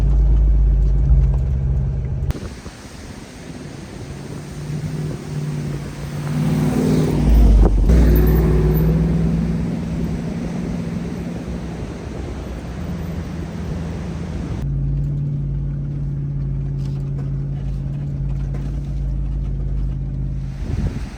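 A Jeep in second gear, four-wheel high, holds just over 2,000 rpm while driving on beach sand at Padre Island National Seashore, a loud, steady engine drone with rushing wind and road noise throughout.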